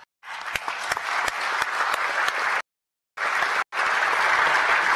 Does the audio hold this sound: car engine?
no